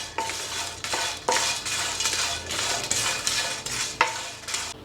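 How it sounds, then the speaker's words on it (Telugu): Cloves, cardamom, cumin and coriander seeds dry-roast in a pan, giving a continuous rustling, scraping stir with repeated clinks of the utensil against the metal. "లవంగాలు, యాలకులు, జీలకర్ర, ధనియాలు వేసినాక వేయించుతాను."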